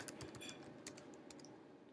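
Typing on a computer keyboard, a quiet run of irregular key clicks, some in quick bursts, fairly close in a still room.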